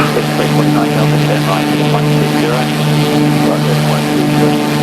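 Aircraft engine drones steadily and loudly during a landing approach with flaps and gear lowered in the X-Plane 11 flight simulator over New Zealand scenery.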